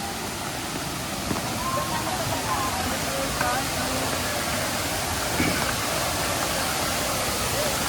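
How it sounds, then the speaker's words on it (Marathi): Savdav waterfall in the Konkan, crowded with weekend visitors, sends up a constant, roaring rush of falling water while people talk nearby over the steady noise. "आणि हा आहे आम्ही सावडाव धबधबा."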